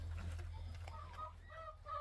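Chickens clucking and squawking on a small family farm, several short close calls in quick succession over a low background rumble.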